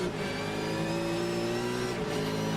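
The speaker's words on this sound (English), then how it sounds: "here's another onboard 5th gear pulling up into 6th gear and revving up" A V8 race car engine in the iRacing sim, heard onboard at Imola, screams steadily at high revs in fifth gear, then briefly dips as it shifts into sixth and keeps pulling, loud and close.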